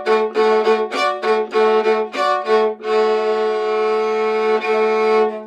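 A fiddle bows three-note chords in Cajun style, first in a run of short rhythmic strokes, then in one sustained ringing chord, played solo and close.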